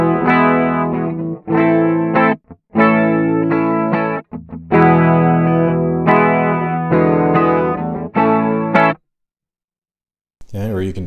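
Electric guitar played through the analog 80s-style chorus on a NUX Cerberus multi-effects pedal: shimmering, wavering chords and notes in short phrases separated by brief pauses, close and loud, followed by a short voice at the very end.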